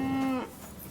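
A cow in Kingdom Come: Deliverance 2 lets out one short, low moo that holds steady briefly before fading into a soft background hum, with no talking.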